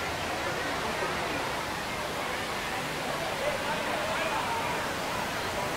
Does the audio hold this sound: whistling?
no